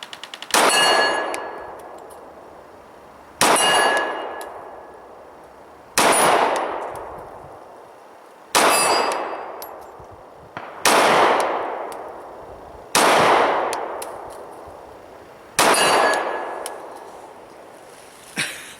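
Bullets from an XDM 45c pistol striking a steel gong set behind a paper target: seven loud, ringing clangs about two to three seconds apart, each with a bright metallic hit that decays slowly, heard alone without talk.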